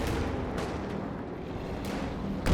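Bazooka fire in Company of Heroes 2, heard as a few dull, distant booms and thuds within a low rumbling battle ambience, with a sharper blast right at the end.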